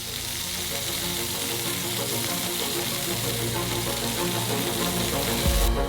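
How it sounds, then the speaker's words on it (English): A cutlet and fish fry together in one pan with a steady, dense sizzle that holds throughout, close and even, with a brief clatter near the end. "in the same pan, we send the cutlet and the fish. They also need to be fried on both sides"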